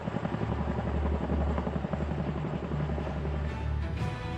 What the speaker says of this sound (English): So we're really relying on the helicopter.